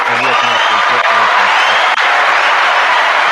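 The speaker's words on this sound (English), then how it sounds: "That's really your applause is so loud. It drowns out the person talking." A large live crowd claps loudly and steadily throughout, a dense roar of applause with a few whoops, while a person talks briefly underneath at the start.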